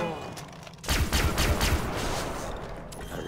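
Video game gunfire in Far Cry 3 Blood Dragon erupts abruptly as a loud burst of rapid shots after a quieter opening, then settles into a dense, rumbling barrage with lingering echo.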